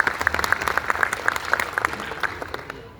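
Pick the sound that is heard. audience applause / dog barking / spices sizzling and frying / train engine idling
audience applause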